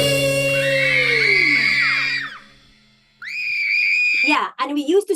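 Children in a young learners' class scream loudly during an action song, a long shrill chorus of high voices that fades, then a second burst and several sharper shrieks at the end.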